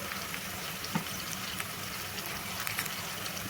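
Onions, green chillies and ginger-garlic paste sizzle steadily in a pan while a banana and tomato curry is cooked, a continuous close frying hiss with a few soft stirring clicks and no voices.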